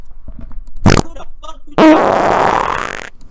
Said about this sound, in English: I'm about to fart in my mic.